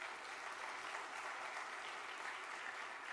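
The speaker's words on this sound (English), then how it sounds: "you give them a round of applause as well" A business conference audience applauds steadily, a dense even wash of clapping heard from a distance with no talking over it.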